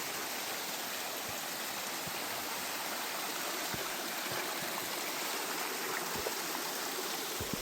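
West Canungra Creek's clear water rushes and babbles in a steady, broadband wash, close and constant, with occasional small splashes and drips standing out, and no talking.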